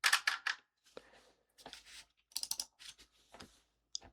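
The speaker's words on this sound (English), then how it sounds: "my keyboard is incredibly loud" A loud computer keyboard clacks in quick bursts of sharp keystrokes separated by short pauses, close and prominent with no voices.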